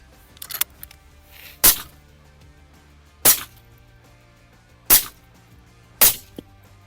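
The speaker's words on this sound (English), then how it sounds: "Now we fired with 308 Winchester caliber bullets, 4 times in each panel." .308 Winchester rifle rounds strike wall panels in four sharp, loud cracks spaced over a second apart, each a short explosive impact with quick decay, separated by quiet room tone and a few faint clicks.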